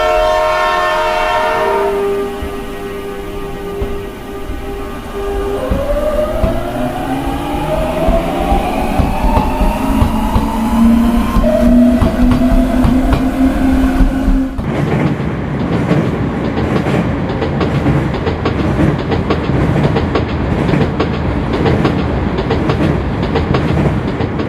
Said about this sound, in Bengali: আর ট্রেন দুর্গাপুর থেকেও কিন্তু ছেড়ে দিল।